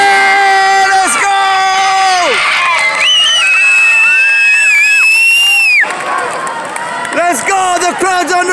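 Crowd on its feet at a boys' volleyball match cheering loudly and continuously, with high shouts and whoops from close voices, dipping briefly before rising again.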